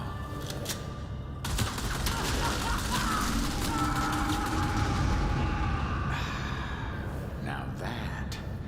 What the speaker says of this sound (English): Like this SG-12 breaker assault shotgun.